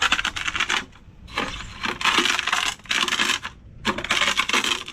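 Rough, gritty grinding in bursts as roasted mung beans are ground, hard dry particles rasping against a surface, pausing briefly between each round, close and fairly loud.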